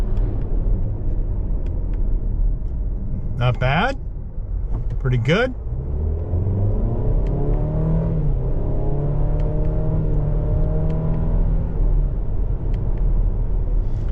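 A 2025 Buick Envision Preferred luxury two-row SUV in sport mode downshifting, steady engine drone and road rumble throughout with rising revs after the shifts, heard from inside the cabin as people talk briefly over it.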